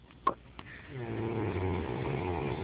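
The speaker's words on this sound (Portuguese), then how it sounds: "tô roncando" A pet snores nearby, a steady raspy rumble of rising breaths after a couple of small clicks at the start, quiet and close with no talking.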